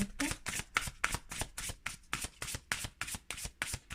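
Tarot cards are shuffled in a steady run of about a dozen crisp riffling bursts, each a quick papery flutter with brief gaps between, close and fairly loud with no talk over them.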